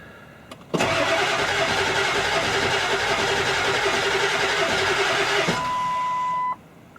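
A 2001 Ford Powerstroke diesel engine cranks loudly for about five seconds with a steady, rhythmic churning that stops abruptly, followed by a short electronic tone.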